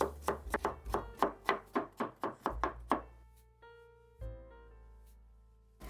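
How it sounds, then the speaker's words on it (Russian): Steady, evenly spaced knife strokes slice a large cucumber into half-rings on a board, around a dozen close, crisp chops before the cutting stops. "Полукольцами режу один крупный огурец."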